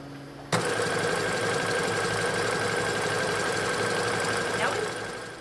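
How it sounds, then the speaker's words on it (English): A sewing machine zigzag stitches along the raw fabric edge of a baby sling seam, starting abruptly and running in a steady, loud mechanical whir for several seconds before slowing slightly at the end. "we're going to zigzag stitch right along this raw edge to finish the seam and to prevent fraying"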